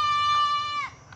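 A goat bleats once, a loud, drawn-out wavering call close by on a family outing, holding steady and then breaking off, with nothing but quiet ambience after it.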